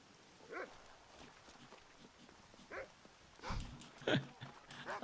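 Dog barking in the video game Red Dead Redemption, a few short scattered barks and yelps at moderate distance over a low ambient background, with footsteps and a faint voice at times.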